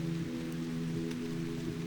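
Soft rain falls on a surface in a steady, even patter with a low hum underneath, continuous and calm for the whole short stretch.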